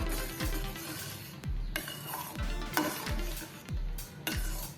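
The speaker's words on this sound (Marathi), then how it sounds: "हे आता चांगले मिक्स करून घेऊया" A spoon stirs caramel rice kheer with dry fruits in a pot, about five soft, evenly spaced scraping strokes with faint clinks, quiet and close, with no talking.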